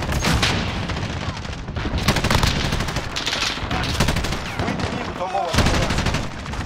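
A PKM light machine gun in Modern Warfare fires in dense, continuous bursts with other gunfire around, loud and close throughout.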